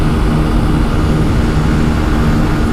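A 2018 Benelli TNT 135 motorcycle engine runs hard at high speed, a loud, steady droning whine blended with heavy wind rush, unbroken and close.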